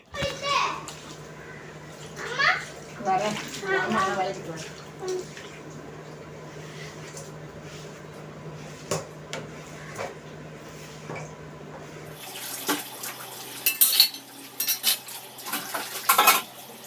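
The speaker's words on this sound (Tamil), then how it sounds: "பாத்திரம் வந்து கொஞ்சம் நிறையவே வந்து சேர ஆரம்பிச்சிச்சு அது கடகடன்னு வந்து விளக்கிட போகிறேன்" Dishes and vessels clatter at a kitchen sink during washing, with repeated metallic clinks of utensils and pots scattered through the clip and sharper knocks near the end, while children's voices are audible in the background.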